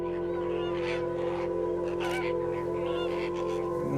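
Birds in the Camargue wetlands take off with repeated goose-like honking calls over a dense, steady hum of background noise, the calls loud and overlapping throughout.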